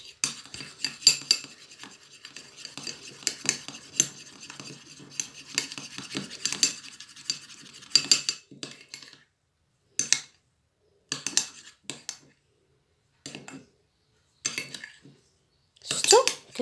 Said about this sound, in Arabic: المهم كتبقاو تحركوا فيها حتى كتولي لكم كريمه